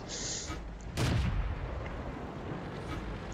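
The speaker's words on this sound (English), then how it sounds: "And now I'm getting shot at by artillery." Artillery fire in the World of Tanks video game striking near a T-34 medium tank, a single loud boom rising above steady engine rumble.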